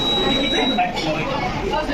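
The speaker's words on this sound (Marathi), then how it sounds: "तर ते ह्या PIR सेन्सरच्या समोर जी पण वस्तू येईल तर ते बझर वाजू लागते" A PIR sensor alarm at a school science day exhibit buzzes with a steady, thin electronic tone that runs under continuous talk and crowd noise.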